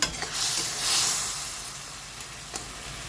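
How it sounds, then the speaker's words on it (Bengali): Tomato chutney bubbling and sizzling in a home pan, a soft steady hiss with gentle crackle that swells briefly and settles, heard close with no voices. "দেখুন বন্ধুরা টমাটোটা ফুটতে শুরু করেছে"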